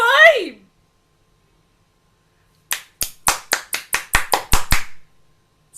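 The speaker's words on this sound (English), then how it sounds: "Some children began clapping" Children clap in a short burst of about nine quick, sharp claps, close by, following a spoken voice that fades out just before.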